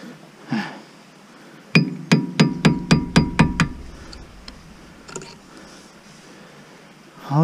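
A hammer strikes a car's drum brake on an Audi A2 in a quick run of about eight sharp metallic blows with ringing overtones, close by, followed by a few softer taps.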